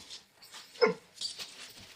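Farm dogs give a short bark or yelp, followed by a few fainter whimpering sounds, fairly close in an otherwise quiet outdoor setting.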